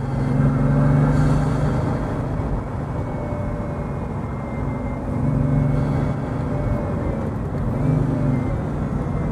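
A Bugatti Veyron Vitesse and a Pagani Huayra drive along a road, their engines giving a steady, loud drone that swells and eases slightly as they cruise.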